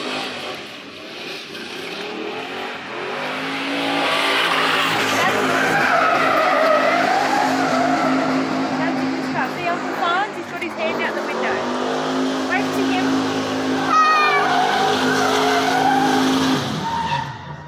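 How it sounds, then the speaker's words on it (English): V8 car doing burnouts in a park, loud engine revving with harmonic roar and squealing, skidding tyres, sustained and fluctuating in pitch, with crowd voices and chatter audible underneath. "And we've got some V8 action going now."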